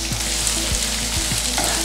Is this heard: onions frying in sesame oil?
yes